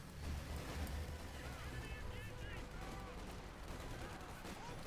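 Infantry gunfire in the Company of Heroes 2 video game rattles in quick bursts amid a busy, noisy battlefield, with mechanical rumble underneath and faint talk mixed in.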